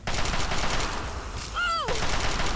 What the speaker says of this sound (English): Chinese assault rifle time, I think.